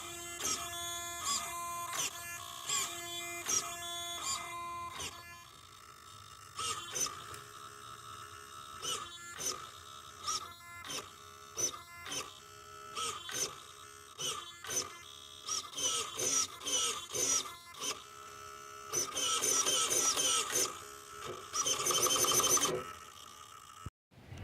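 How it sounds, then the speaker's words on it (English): A Savox steering servo on a Vanquish Phoenix VS4-10 RC car whines in repeated short mechanical bursts, starting and stopping in quick, uneven rhythm, close and fairly loud. "the steering servo is not that loud now that I'm out here"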